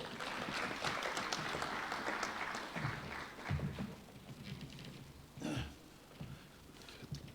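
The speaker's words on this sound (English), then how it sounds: "Let's give a big round of applause for Dr." An audience at a national competitiveness summit applauds after a presentation. The applause is faint and distant, a soft, spread-out patter with an occasional cough.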